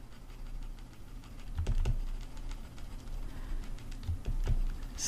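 Computer keyboard keys, including the Alt key, pressed during digital drawing with a colored pencil brush pack: a few scattered clicks over a steady low background hum, with no voices.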